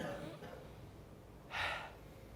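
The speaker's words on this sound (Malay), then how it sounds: "Okey, tarik nafas sekali." A group of people in a class take one deep breath together, a short airy inhale rising briefly over faint room noise.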